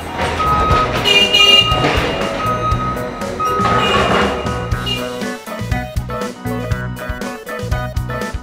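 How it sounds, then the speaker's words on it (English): A semi-truck is loaded with apples while a vehicle's reversing beeper repeats over engine rumble and loud clunks of machinery, all close and busy. "We're currently loading them into the back of a semi-truck."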